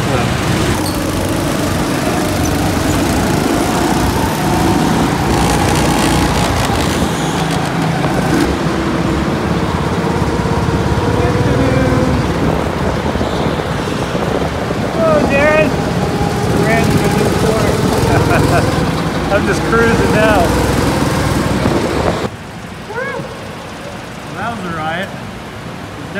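A go-kart engine drones loudly and continuously through a race, a close, rough motor hum with wind noise, while the driver talks and exclaims over it.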